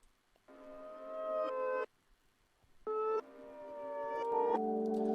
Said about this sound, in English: I've chopped up this guitar and I've reversed it